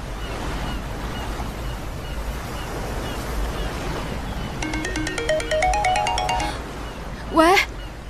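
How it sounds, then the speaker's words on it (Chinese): A phone ringtone for an incoming call plays a rising electronic melody of repeated beeps over steady wind and surf-like background noise, ending with a brief swooping tone. "单女浩，你为什么一直不接我电话？"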